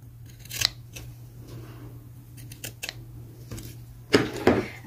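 Sharp scissor snips trim the square corners of sewn fabric on a vintage bodysuit, several close, crisp cuts spaced apart over a quiet room hum, with a louder cluster near the end.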